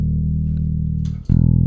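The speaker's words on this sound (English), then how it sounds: "You push that and it takes your bass a half step down." A bass guitar note run through a Quad Cortex, sustaining steadily and then abruptly shifting to a new pitch a half step apart, with a brief click at the change. Loud and close, with no talking.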